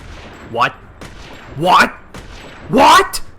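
Three sharp sniper rifle shots in Primal Carnage: Extinction, spaced about a second apart, each a loud crack with a short sweeping tail, standing alone against a quiet background.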